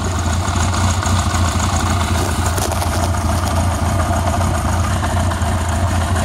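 A 1981 Honda CB750K motorcycle engine idling a little low on RPM, a steady, close, continuous mechanical drone with constant loudness and no talking over it.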